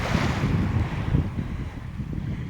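Wind and North Sea waves along the Scottish coast, a steady rushing roar with low rumbling surf and gusty buffeting against the microphone, continuous and fairly loud with no voices.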